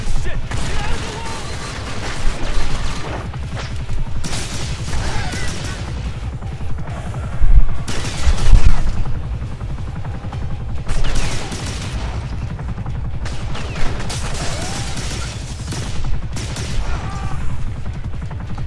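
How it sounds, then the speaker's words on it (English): Gunfire in The Darkness video game, with cops firing machine guns inside an apartment room: repeated bursts and shots over a dense, busy game mix, loud throughout. "there's a couple more cops in this room. And they have machine guns."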